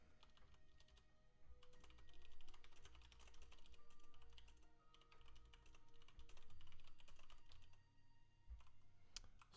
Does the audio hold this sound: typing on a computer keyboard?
yes